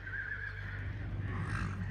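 A pair of horses out in a field, one neighing in a long whinny that runs across the clip, over steady low rumble and faint hoof movement.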